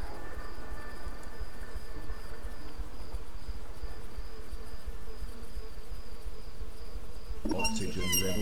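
Bees buzzing in the video game Stasis: a steady, low insect drone runs throughout among ambient game sounds, and a brighter burst of noise enters near the end.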